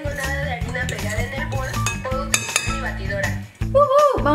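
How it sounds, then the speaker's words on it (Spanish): A fork stirring chocolate cake batter in a bowl for a no-bake chocoflan, with busy clinks and scrapes of metal against the bowl mixed with background music. "Vamos a revolverlo con un tenedor para quitar grumos y que no salga todo volando para todos lados."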